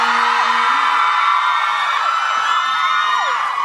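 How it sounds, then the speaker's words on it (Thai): A large crowd of fans at the Oh! My Sunshine Night final-episode fan meet lets out a continuous, loud, high-pitched scream that holds for several seconds, with no pauses. "ขอเสียงกรี๊ดหน่อยสิค่ะ"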